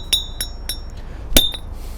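A small 300 gram hammer strikes a seamless steel tube in a handful of sharp metallic clinks, sparse and irregular, with one harder ringing blow followed by a lighter tap.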